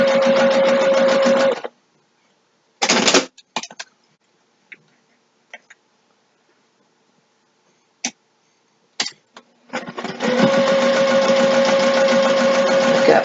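A sewing machine stitching a zipper bag at a short stitch length runs in two loud, steady bursts at the start and end, separated by a quiet stretch with a few brief clicks and taps.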